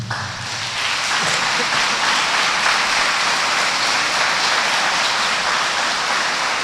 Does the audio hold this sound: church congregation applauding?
yes